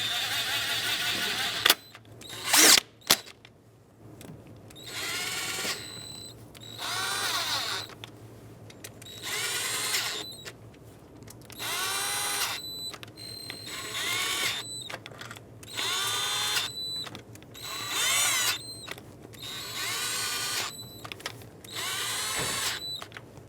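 A power driver runs down the valve cover bolts on a 2008-2020 Dodge Grand Caravan, about a dozen short whirring bursts in a steady sequence with brief pauses between, close by and with no talking.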